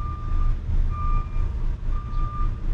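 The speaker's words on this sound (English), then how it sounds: "Have you seen the size of that truck?" A large truck maneuvering on a road, its reversing alarm giving three long steady beeps over a loud rumbling engine and traffic drone.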